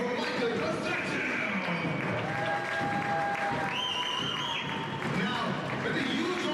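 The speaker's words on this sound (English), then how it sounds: "give a round of applause again for Michael Constantine" Crowd applause in a gym at a men's college basketball championship bronze medal game, steady clapping and cheering that fills the hall throughout, with tonal sounds and voices layered over it.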